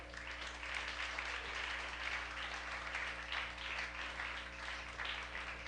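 A church audience claps for the Lord during a Spanish-language sermon, a fairly faint, even spread of many hands over a steady low hum, continuing without a break and with no voices standing out.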